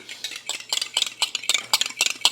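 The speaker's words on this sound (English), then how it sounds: "You wanna stir this up." A utensil scrapes and stirs whole-milk scone mixture in a bowl, giving a quick run of bright, screechy strokes at an uneven rhythm, close and fairly loud, with no voices.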